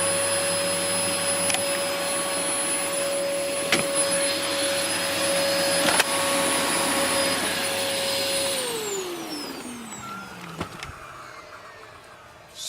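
A Dyson DC04 vacuum cleaner runs loud and close with a steady high whine, then winds down, its pitch sliding lower as it switches off near the end.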